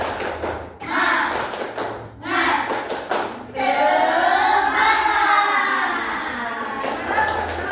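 A classroom of students performs a rhythmic group clap, a few sharp, loud bursts of hands striking together, followed by voices chanting in unison.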